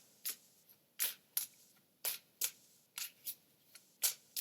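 Tarot cards are shuffled up close in a quiet room, giving about a dozen short, crisp riffling bursts in an irregular rhythm with brief pauses between them.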